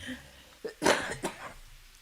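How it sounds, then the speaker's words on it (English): A single harsh cough up close, with a short follow-up rasp and a breath. "I'm going to cough again, excuse me."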